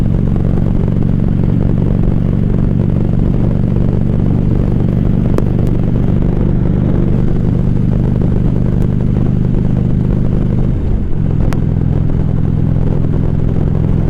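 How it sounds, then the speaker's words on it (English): A motorcycle cruising steadily at about 65 to 70 mph on a highway, its engine a loud continuous drone with wind rush and a brief dip in pitch near the end, no talking. "see how this thing sounds when we're going 65, 70 miles an hour"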